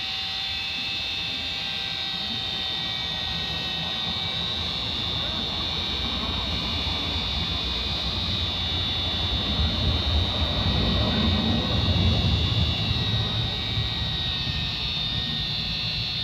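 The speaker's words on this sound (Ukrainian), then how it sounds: "Вмикаємо болгарку і починаємо точити." An angle grinder whirs at high speed, grinding down a pulley to reshape its groove from A to B profile by hand without a lathe. The loud, steady whine stays continuous throughout and swells slightly near the end.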